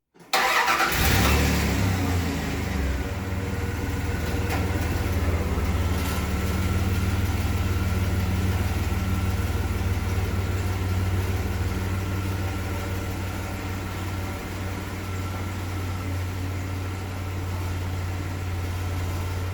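A 1997 Dodge Dakota truck's engine, fitted with new O2 sensors, catches and starts abruptly, then settles into a steady, loud running hum with a low, constant drone that holds for the rest of the stretch.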